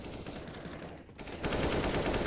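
Rapid automatic gunfire from Counter-Strike on the de_train map during a competitive esports match, dense continuous bursts that briefly dip then return louder and fuller with overlapping shots.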